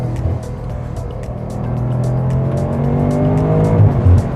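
A modified, lowered BMW F90 M5 with exhaust work revs and accelerates hard, its engine note climbing steadily and loud, with a brief tire chirp near the end.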